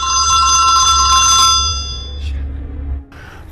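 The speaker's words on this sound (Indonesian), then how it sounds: "telepon ibunya pun berdering dan si Charlie langsung menutup teleponnya." A telephone rings loudly and steadily with a bright electronic tone, then cuts off partway through, leaving a fainter hum and a brief final sound.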